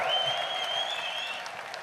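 Esports arena crowd at a League of Legends Worlds semifinal applauding and cheering for Fnatic, a dense, steady wash of clapping with shouts and whistles, loud and sustained throughout.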